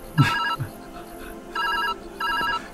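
Phone ringing in the puzzle video game Viewfinder, with electronic trilling rings in repeated bursts separated by short pauses, plus a brief thump at the start.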